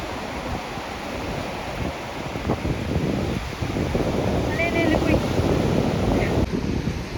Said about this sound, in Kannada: ಅಲೆ